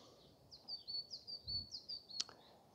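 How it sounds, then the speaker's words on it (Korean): Birds sing at Jeonghyesa, a mountain temple above Sudeoksa. A faint, thin series of high chirps repeats in a quick rhythm over quiet background hiss, ending with one sharper note. "새소리 참 상쾌하게 들립니다"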